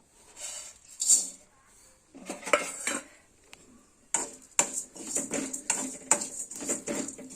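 Small rice-flour pieces frying in ghee in a wok, with spoon or spatula strokes clinking against the metal in irregular bursts between quieter stretches, close by and with no talking.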